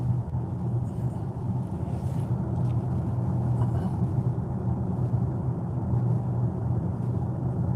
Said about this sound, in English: Sounds noisy car, huh?